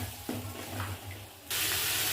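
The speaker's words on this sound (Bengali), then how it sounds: "এবার আমি জল দিয়ে দিচ্ছি।" Water from a jug is poured into a curry pan with a short, steady splash, faint at first and then louder in a sudden rush.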